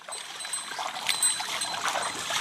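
Water splashes and trickles steadily as a cow's horns are washed during a Pongal festival celebration, with close, continuous dribbling and spattering throughout.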